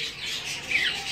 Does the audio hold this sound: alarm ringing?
no